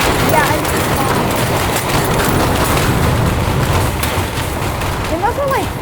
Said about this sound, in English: They must have like throw a pipe bomb or something